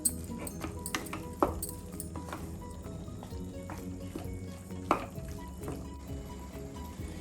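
Coriander and curry leaves get mixed into a simmering vada curry. Soft, quiet scraping and a few light clinks of a spoon against the pot come over a low background hum.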